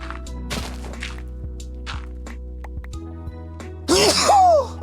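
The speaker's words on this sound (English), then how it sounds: "Nothing like sneezing with a cannula." A person wearing a nasal cannula sneezes once, a loud, sharp burst near the end over a steady low mechanical hum and scattered small clicks and taps.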